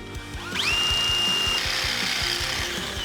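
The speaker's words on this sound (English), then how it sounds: "Then I drilled holes into the wheel frames, avoiding the spokes." A power drill spins up with a rising whine and bores steadily into the metal rim of an old bicycle wheel, close and loud for a few seconds.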